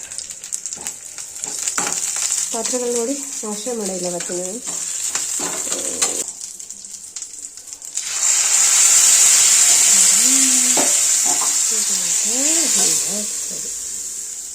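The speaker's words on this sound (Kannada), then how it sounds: "ಈರುಳ್ಳಿ ಚೆನ್ನಾಗಿ ಎಣ್ಣೆನಲ್ಲಿ ಫ್ರೈ ಆದಮೇಲೆ ಕರಿಬೇವು ಹಾಕ್ಕೊತಾ ಇದ್ದೀನಿ" Onions and curry leaves sizzling loudly in oil in a pan as a sambar tempering fries, the hiss swelling midway, while someone talks over it.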